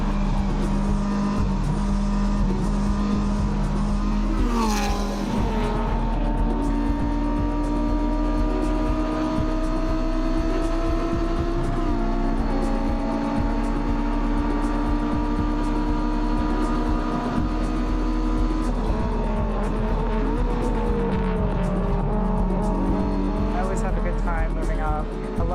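Race cars roar past one after another on a road circuit, engines droning steadily with rising and falling pitch sweeps as they shift and pass, a loud continuous racing din throughout.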